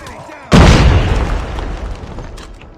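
A loud, close grenade blast in a first-person shooter game, a sudden booming burst that rolls off into a long decaying rumble over nearly two seconds.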